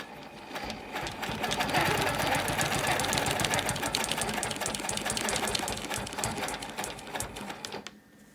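Sewing machine stitching a wholecloth quilt, a fast continuous mechanical whir that builds up, runs steadily for several seconds and stops near the end.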